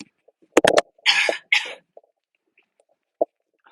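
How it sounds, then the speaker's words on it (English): A person coughs a few times in short, close, harsh bursts, with quiet pauses between them. "Sorry, I'm going to cough again."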